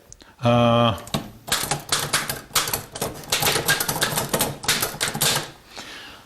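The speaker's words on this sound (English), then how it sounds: "One of the problems with these early typewriters was that you couldn't see what you were doing" An early manual typewriter clacks through a quick, irregular run of sharp key strikes, close and loud, after a brief tonal ring at the start.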